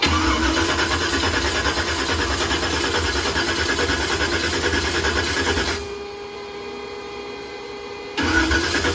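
A Chevy Blazer's engine runs loud and steady, with a mid-pitched raspy roar filling most of the clip, a brief dip in level, then resuming at full strength near the end.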